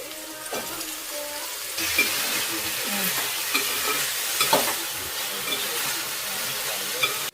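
Washed potatoes tossed with turmeric sizzle and fry in a pan, with a steady hiss broken by repeated scraping stirs of a spoon close by, faint voice in the background.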